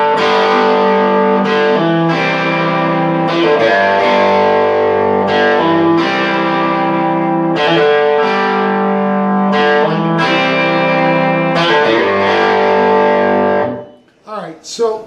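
Distorted electric guitar with effects plays a repeated post-chorus lick from the Black Crowes song Jealous Again, including hammer-ons on the fourth string. The riff stays loud and steady in rhythmic phrases with no talking, then cuts off near the end.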